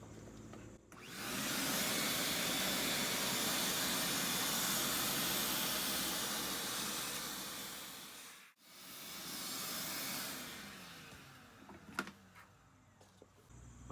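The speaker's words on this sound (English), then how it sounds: "Now we're going to try the shop vac." A shop vacuum runs steadily and loudly for several seconds while trying to suck a bug out of a car headlight, cuts out abruptly, then restarts with a sputtering, uneven roar.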